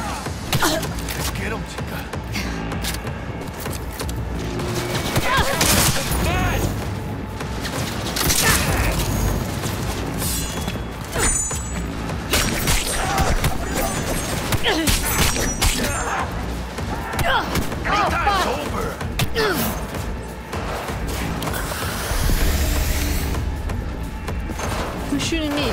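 Video game gunfire in Cyberpunk 2077 rattles in dense bursts with thumps and booms, loud and continuous, while people talk over the action.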